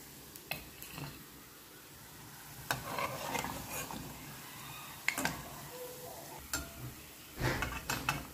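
Bread vada frying in oil gives a faint, soft sizzle beneath intermittent clinks and scrapes of a utensil against the pan, with sharp metallic taps scattered through.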